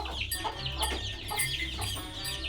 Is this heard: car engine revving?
no